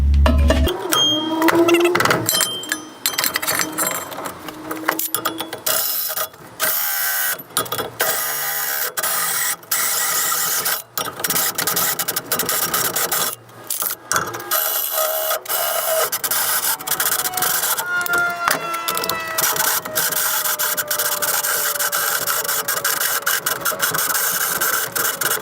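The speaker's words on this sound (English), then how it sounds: "I'm gonna hole saw the ends and then we'll clean it all up." A power hole saw cuts into the ends of a custom scooter deck with a loud, harsh grinding whine. It starts and stops repeatedly in bursts separated by short pauses.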